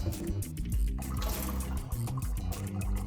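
A white foam cleaning block is soaked in a container of water before scrubbing paint marks off a wall, giving a steady, close sloshing and trickling with no talk.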